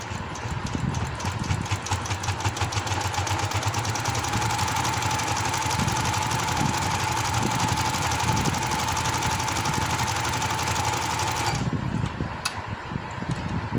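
Sewing machine stitching the folded hem of a palazzo trouser, running steadily and loud with a fast rhythmic chatter for about twelve seconds before stopping.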